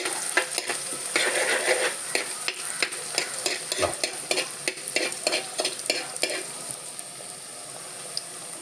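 Chopped shallots sizzle and crackle in hot oil while being stirred with a spoon, the early base for a red chilli fish curry; steady close frying with repeated scraping strokes, easing off near the end, no voices.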